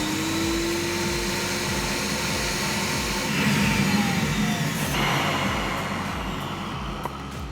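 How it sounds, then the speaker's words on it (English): A Pro-Ject VC-E record cleaning machine vacuums leftover water off a vinyl record, a steady loud motorized whoosh with a low rhythmic pulsing as the platter turns, swelling slightly midway, no voices over it. "usually 2 or 3 rotations in either direction is enough for the vacuum to pick up any water that's left"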